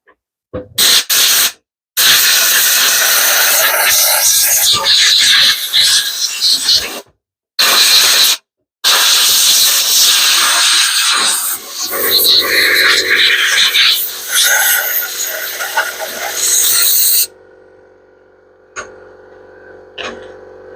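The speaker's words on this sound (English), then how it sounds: "Apologies for the noise, you can hear the compressor in the background." Air compressor running in a workshop while compressed air is blown in loud hissing bursts with short gaps, then the blasts stop and the compressor's steady hum carries on alone near the end.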